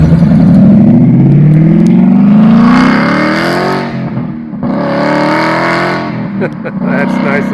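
A 1970 Mustang fitted with active exhaust revs with its valves open, a loud, sustained engine roar rising in pitch, dipping briefly and swelling again up close.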